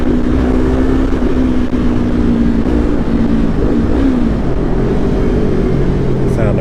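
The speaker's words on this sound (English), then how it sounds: "let's see if I can hear this exhaust." A motorcycle exhaust rumbles loud and close on a Seattle street, its tone rising and falling slightly as the engine revs, steady throughout the short stretch.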